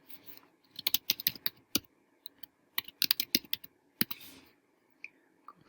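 Bursts of typing on a computer keyboard, close and clear, with quick clusters of key clicks separated by short pauses while a folder name is entered.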